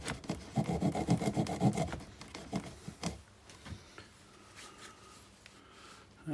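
Broc Small Tracker bushcraft knife sawing a notch into wood, with close, rhythmic rasping strokes for about three seconds before fading to quieter scraping.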